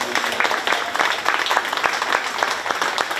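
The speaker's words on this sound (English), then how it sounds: "Let's give this group of young exhibitors a nice round of applause." Spectators at a county fair 4-H cattle show give a round of applause for a group of young exhibitors, brisk dense clapping filling the ring, steady and moderately loud throughout.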